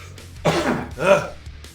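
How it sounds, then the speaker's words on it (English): Two harsh, close coughs from a man, the second with a throat-clearing rasp, spaced about half a second apart in a quiet indoor room. "I know, I gotta hydrate, deal with this damn cough."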